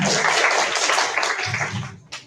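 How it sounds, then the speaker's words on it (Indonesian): School students at a junior high school applaud together in a dense, bright wash of many hands. The clapping runs steady and close, then thins and fades over about two seconds, with a few voices rising underneath near the end. "Tepuk tangan semuanya."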